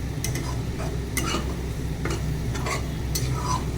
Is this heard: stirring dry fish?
yes